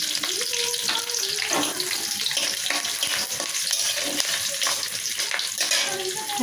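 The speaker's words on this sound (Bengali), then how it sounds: "হালকা ভাজা হয়ে গেলে আমি সবজিটা দিয়ে দিই" Dried red chillies, slit green chillies, bay leaves and panch phoron spices fry in hot oil, giving a loud, busy sizzle that stays steady throughout, with bursts of spitting and some stirring.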